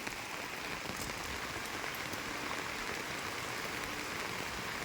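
Steady, heavy rain pours continuously, a dense hiss of drops on surfaces with no pauses and no voices.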